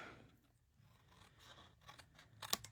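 Scissors trim card paper, a faint close-up scrape and crunch of blades moving through the stock, ending in a sharper snip.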